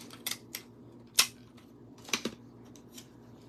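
Scissors cut paper for a handmade greeting card in a series of crisp, close snips spaced irregularly, with one louder snip standing out from the rest.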